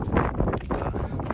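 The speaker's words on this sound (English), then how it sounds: "It's quite windy." Strong wind blows outdoors on a warm, sunny day in Scotland, a steady low rumble of gusts buffeting the microphone throughout the short moment.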